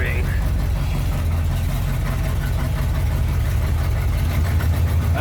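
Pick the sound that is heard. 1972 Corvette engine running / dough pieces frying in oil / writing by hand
1972 Corvette engine running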